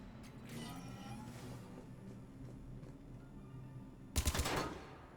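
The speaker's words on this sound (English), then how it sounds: "I actually have to shoot the exact latch" Gunfire in Mass Effect 3 crackles faintly through the first seconds, then a loud, close burst of rapid shots erupts near the end before dying away.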